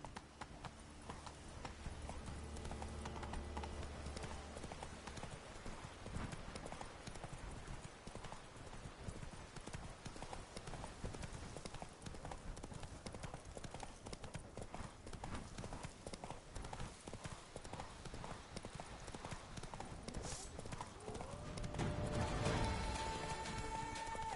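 Roach the horse gallops in The Witcher 3, steady clip-clop hoofbeats running close and loud throughout, with a brief whinny near the end and game music underneath.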